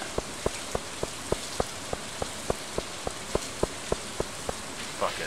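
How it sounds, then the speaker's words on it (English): Steady rainfall from the Stardew Valley video game, a constant hiss of rain with regular, evenly spaced ticking beats repeating across the whole stretch, no voices. "It's raining. I don't want to walk around in the rain."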